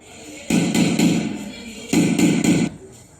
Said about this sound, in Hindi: यूसुफ ने मदद के लिए किसी का दरवाजा खटखटाया।